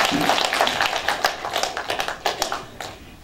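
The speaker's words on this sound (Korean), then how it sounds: "격려의 박수 한번 해주시기 바랍니다" Scattered clapping from an audience at a by-election candidates' debate in Tongyeong-Goseong, a loose patter of hands rising and thinning over a few seconds with faint murmuring underneath.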